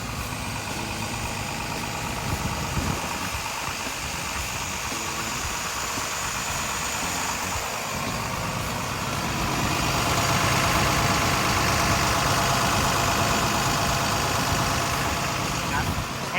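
A heavy diesel engine of a 20-ton Komatsu PC200-10 excavator idles steadily and loudly nearby, its rumble growing a little stronger partway through, with no clear talking.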